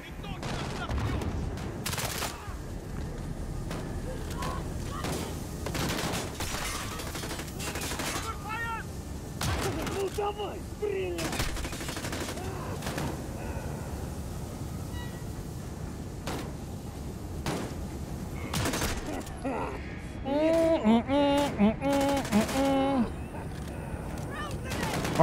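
Shotgun blasts and scattered gunfire come from the Call of Duty: Modern Warfare video game, repeated booming shots over continuous battle noise and in-game voices.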